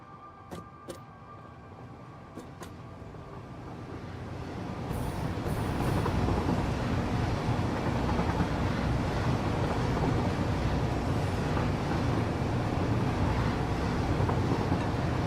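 A train in the factory-building video game Satisfactory approaches, its low mechanical rumble swelling from moderate to loud and then holding steady, with a few faint clicks early on.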